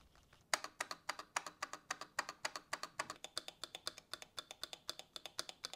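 Rapid, crisp keystrokes clatter on a custom mechanical keyboard, a steady run of clicky taps close up with no voices.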